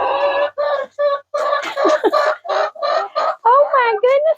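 Chickens in a winterized coop cluck close and loud in a rapid string of short, choppy calls, rising into a busier burst of overlapping clucks near the end.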